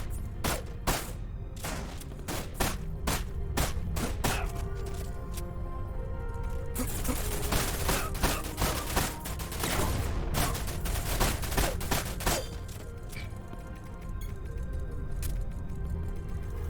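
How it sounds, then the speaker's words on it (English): A minigun turret fires in Dirge of Cerberus: Final Fantasy VII, sustained loud bursts of rapid gunfire with short gaps between volleys, with no talking. "A very odd placement for a minigun turret."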